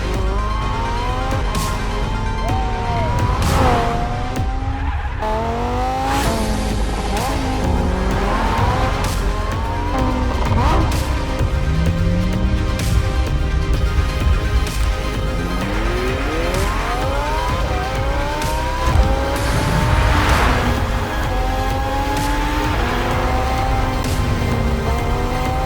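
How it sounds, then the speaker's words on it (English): A Lamborghini Huracan Evo engine revs loudly again and again, its pitch sweeping up and down through gear changes, with bursts of tire squeal and a car rushing past. "The Lamborghini Huracan Evo."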